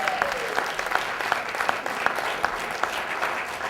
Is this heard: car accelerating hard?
no